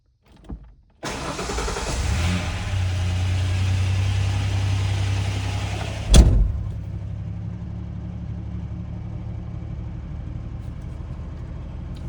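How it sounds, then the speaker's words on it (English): A 1992 Ford Ranger engine with a ticking valve lifter starts up and settles into a steady idle, heard from inside the cab, with a clunk partway through and a continuous low hum. "What about that ticking noise? Can you hear it inside?"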